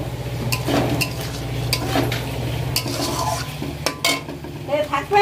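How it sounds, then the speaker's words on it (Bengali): Boiled potatoes are sautéed in spice paste in a pan, with a close spoon stirring and scraping against the pan over a steady sizzle and occasional clinks. "এবার একটুখানি কষিয়ে নিই।"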